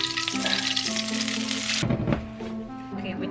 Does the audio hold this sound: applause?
no